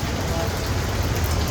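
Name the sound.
heavy rain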